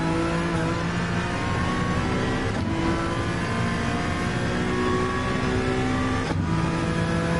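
A GR3 race car engine in Gran Turismo 7 drones loudly and steadily as it accelerates, its whining tone climbing, with two brief gear-shift dips along the way.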